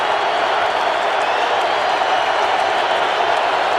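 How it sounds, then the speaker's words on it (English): A football stadium crowd at an NFL game between the Jets and Colts, a continuous dense roar of cheering and applause that holds steady throughout. "this crowd finally getting into it here a little bit"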